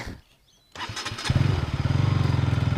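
KTM motorcycle engine powering a homemade merry-go-round: it starts after a brief quiet moment, then settles into a loud, steady, close-up throbbing run.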